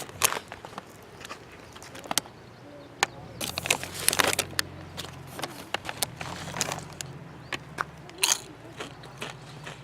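Sweet potato chips are bitten and crunched in a taste test, making scattered sharp crisp cracks and crackling bursts, close and moderately loud, with quieter gaps between bites.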